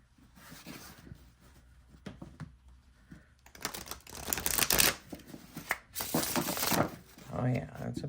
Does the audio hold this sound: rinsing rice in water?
no